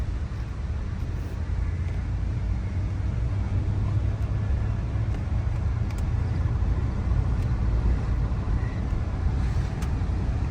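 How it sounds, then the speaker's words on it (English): A Land Rover engine idles steadily after being revived from a five-month breakdown, a continuous low rumble with faint clicks on top, held at an even level throughout with no talking. "the Rover is running under her own power once again"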